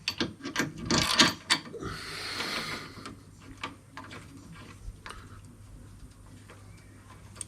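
Metal clicks and ratcheting taps as SW Motech crash bars are bolted onto a BMW R1200GS, starting with a dense busy burst of rattling, then sparser, quieter ticks spread out at close range.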